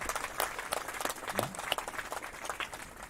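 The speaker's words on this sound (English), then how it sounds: "Can we kind of hear a big round of applause for every one of you" Faint, distant applause from an outdoor crowd at a school's annual sports meet, a soft steady patter of many hands under background noise.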